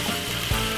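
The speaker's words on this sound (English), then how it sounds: "Got this one, everything to fry along with the seasoning, everything." Vegetables and seasoning frying in a pot for a chicken wrap filling, a loud steady close sizzle with one short stir or bump partway through and no talk.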